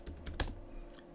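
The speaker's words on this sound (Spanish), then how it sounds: "escribimos nuestra contraseña" Fingers type a password on a computer keyboard in an Ubuntu desktop login, a quick run of soft close key taps with one firmer press, with no talk.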